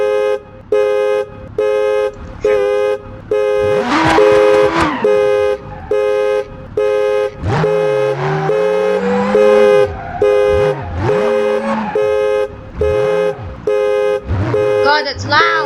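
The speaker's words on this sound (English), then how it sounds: "What that mod was like a burglar alarm." A car alarm in the BeamNG driving game honks in a steady rhythm of loud, evenly spaced horn blasts, with people talking and exclaiming over it the whole time.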